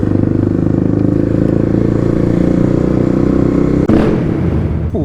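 A Kawasaki KLX351 dirt bike with its airbox lid removed idles loudly and steadily nearby with a throaty exhaust rumble, then a brief blip of the throttle near the end.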